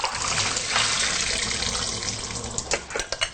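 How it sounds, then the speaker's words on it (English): Soaked raw cashew nuts are drained, with water pouring and trickling steadily, then breaking into brief splashes and drips near the end. "So I'm going to drain these now."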